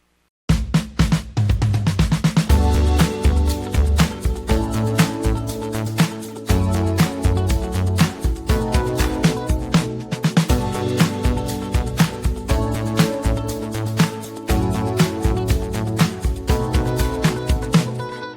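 An upbeat pop groove plays with punchy drums and guitar chords, a steady rhythm running throughout at full, even volume.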